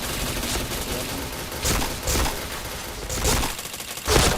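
Gunfire crackles in a shooting video game, bursts of rapid shots arriving in clusters with short gaps between them, moderately loud with no talking over it.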